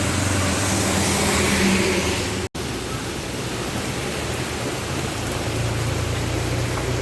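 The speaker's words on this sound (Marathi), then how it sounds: "पावसान बघा जोर जोर" Heavy monsoon rain pours down steadily in Konkan as a dense, loud, continuous roar, with a brief break near the start.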